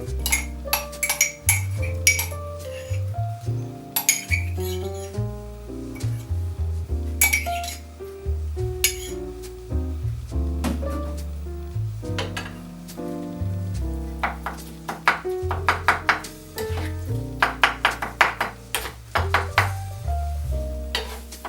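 Utensils clink and scrape repeatedly against a bowl as an aubergine salad with added garlic is stirred and mixed, a busy irregular rhythm of close metallic knocks with no talking.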